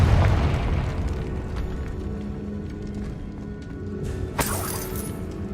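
Confringo fire-blast spell exploding in Hogwarts Legacy, a booming burst at the start that decays into a rumbling tail, followed by a sharp crack near the end.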